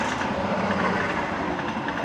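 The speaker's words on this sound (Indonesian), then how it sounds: "Lihat kereta lewat dulu ya." The Argo Bromo Anggrek passenger train on a Java rail line passing close by, a loud continuous rumble with rhythmic clickety-clack of wheels over rail joints throughout.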